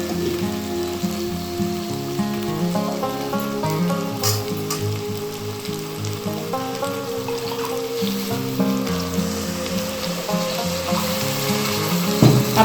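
Masala paste for Andhra-style stuffed brinjal curry sizzles loudly in a hot pan with turmeric, a steady crackling hiss that holds for the whole stretch with no voices.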